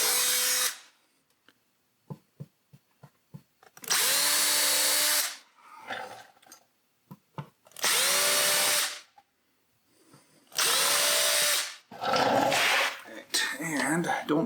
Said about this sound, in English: I'm going to just drill the hole